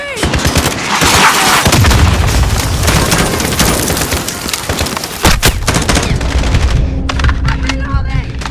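Loud, dense automatic gunfire and heavy booms from an RPG explosion in Call of Duty Modern Warfare, a close firefight with bursts overlapping and a brief lull before more shots crack out near the end.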